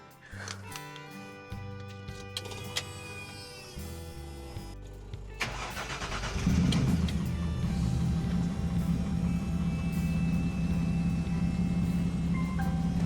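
The Jaguar engine in an MGB car, started after sitting unused for a long time, cranks with the starter for several seconds, then catches and settles into a loud, steady, rumbling idle close by.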